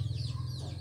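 Chickens clucking on a small home farm, a steady close murmur of fowl calls with a low continuous hum underneath, no talk.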